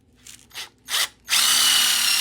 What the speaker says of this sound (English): I'm going to drill the right size hole